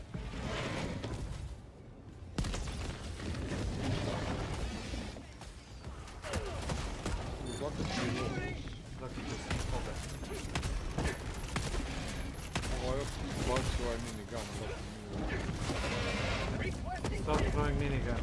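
Rapid, sustained minigun fire in a shooter video game rattles continuously alongside other battle effects, while players talk over it throughout.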